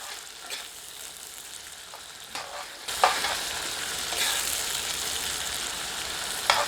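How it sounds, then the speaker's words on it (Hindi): Onions frying in oil over medium heat while being stirred, a steady close sizzle that brightens after a few seconds, with occasional scraping stir sounds, for an Odia-style mutton aloo jhol. "मध्यम आंच पर प्याज को तब तक भूनते हैं जब तक कि प्याज हल्की गहरे रंग की नहीं हो जाती।"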